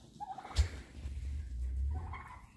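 A tom turkey strutting on straw gobbles in a low, rumbling burst nearby, with soft clucking and a sharp knock in the background; quiet overall.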